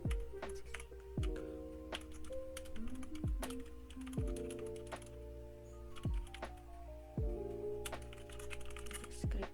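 Keys clatter on a computer keyboard as an IP address is entered while configuring Cisco network equipment, brisk bursts of close clicking in short runs with brief pauses between.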